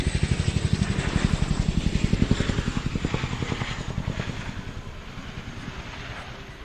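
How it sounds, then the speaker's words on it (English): Helicopter flying a low-level orbit at an airshow, a loud rhythmic rotor thump with fast, even blade beats that slowly fade as it moves away, with wind noise underneath. "The aircraft will now running from the right to perform a low-level orbit, lifting out for that distinctive blade track."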